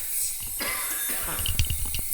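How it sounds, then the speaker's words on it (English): A person coughing in a woodturning shop, several rough, close coughs in quick succession with a few throat-clearing bursts over a low background hum. "sorry for the coughing"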